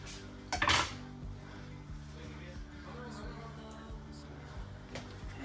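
Dry rotini pasta pours into a dish with a brief, loud rattling clatter near the start, followed by quieter clinks and shuffles of kitchen items under steady background music.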